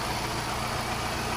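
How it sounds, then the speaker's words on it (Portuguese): Car radiator electric cooling fan just switched on by a thermal switch with the engine running: a steady whirring rush blends with the engine hum, continuous and close throughout the short stretch. "Pronto, começou, o ventilador foi acionado."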